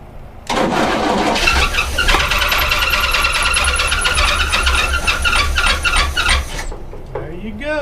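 A Cadillac Coupe Deville engine sitting unused for 25 years cranks and catches, then runs roughly for several seconds with loud squealing, clattering and knocking before cutting off, close by.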